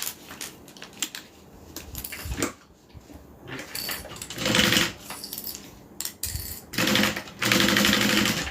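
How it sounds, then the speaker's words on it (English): A sewing machine stitches together a double-folded fabric edge, running in several short, close bursts separated by brief pauses, with clicks and fabric handling between runs. "Going to sew it together."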